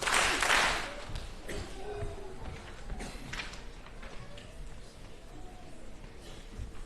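Graduation audience at a fourth grade elementary school promotion ceremony applauding, a loud burst of clapping at the start that thins into lighter, scattered claps with some background murmur.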